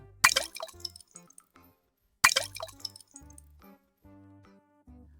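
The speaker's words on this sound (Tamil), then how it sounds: "மாம்பழம் தண்ணீரில் விழுந்ததும் சலசலன்னு சத்தம் வந்தது" Two ripe mangoes dropping into river water as a cartoon sound effect: two bright splashy plops about two seconds apart, each followed by short dripping, bubbly tones.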